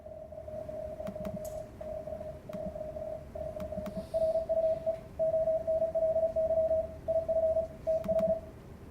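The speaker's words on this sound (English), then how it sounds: "there's practice rooms with ebooks playing in Morse code" Morse code CW from a practice room sending an ebook: a steady pure tone keyed in quick dots and dashes, alone over faint static hiss, with occasional clicks.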